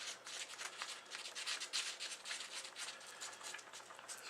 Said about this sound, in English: Go ahead and mix my epoxy here.